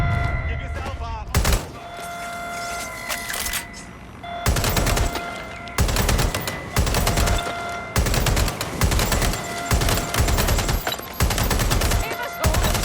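Gunfire in the video game Watch Dogs Legion, loud close bursts of rapid automatic shots in repeated volleys with short gaps, some voices shouting between them.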